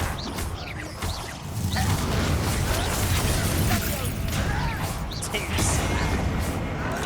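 Explosive blasts and crashing impacts from a fire-based spell during combat in Hogwarts Legacy, mixed with whooshes and loud battle noise, with voices speaking over the action.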